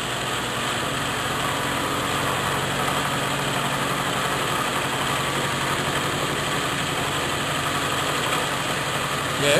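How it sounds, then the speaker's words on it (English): A small power hacksaw runs without pause, a loud, close mechanical drone with a grinding, vibrating texture and no speech over it. "you know that little power hacksaw, it's not very accurate"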